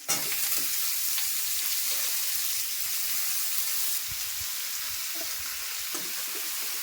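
Mixed vegetables for a ghonto, including beans, eggplant, potato, cabbage and cauliflower, fry in a pan with a steady, loud, close sizzle and hiss, broken by a few scraping stirs and no talk.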